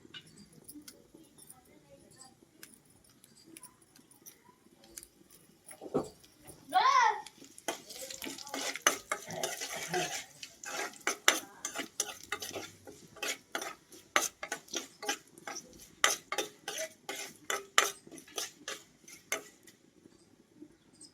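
Dried red chillies frying and stirred in a pan for a gongura sesame chutney, heard as clinks of a spoon against the pan with bursts of crackle, water-like hiss and scraping, under faint background voices.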